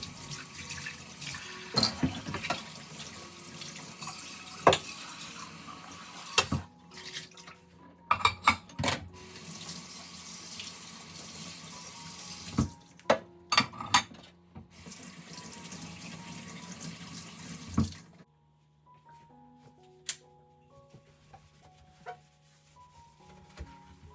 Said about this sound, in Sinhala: මම භාජන ටික හොදනවා